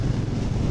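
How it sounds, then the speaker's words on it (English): Steady wind buffeting a microphone, a loud continuous low rumble with no pauses and no voices. "This is a super windy day."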